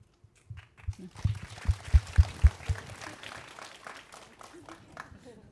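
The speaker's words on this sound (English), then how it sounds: "I didn't expect the clap." A studio audience at an interview gives brief, scattered clapping, a few sharp claps rising then fading within a couple of seconds, mixed with murmuring voices and low rumble.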